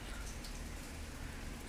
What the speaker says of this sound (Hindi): चेक करो जी सुबह की बारिश आ रही है